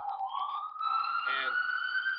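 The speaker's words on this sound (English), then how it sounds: "the sirens are really wiping you out" Wailing police sirens pass close outside during a protest-camp talk, a loud rising tone that climbs and holds steadily with shifting overtones, continuous throughout the clip.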